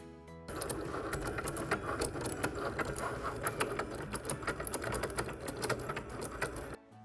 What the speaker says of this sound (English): we just press our go button on our Cricut, load in the cardstock, and off we go